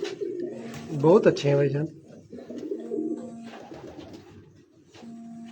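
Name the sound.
pigeons cooing on a rooftop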